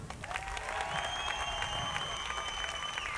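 An audience claps in response to a question about Jay Leno, a sustained, even burst of applause with crowd noise and a thin sustained tone running beneath, holding steady throughout.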